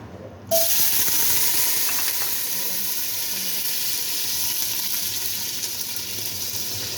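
Chopped onion hits hot oil in a pan for pancit, setting off a loud, steady hiss and sizzle that begins abruptly after a brief quiet moment and keeps going evenly throughout.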